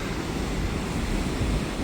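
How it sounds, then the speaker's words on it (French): Powerful ocean waves breaking against rocks on a rocky shore at low tide: a continuous, loud, dense roar of surf and spray with wind buffeting the microphone, no voices. "La puissance des vagues."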